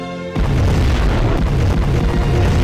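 Massive nuclear blast from a Scud missile strike in Command & Conquer Generals Zero Hour, a sudden loud boom that erupts after a brief lead-in and rolls on as a dense, sustained rumble.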